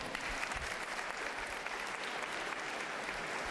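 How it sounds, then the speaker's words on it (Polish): Audience applause at an open day of a sports university in Biała Podlaska, a dense, even roar of many people clapping that stays constant and fairly loud throughout, with no talking over it. "Jeszcze raz wielkie brawa."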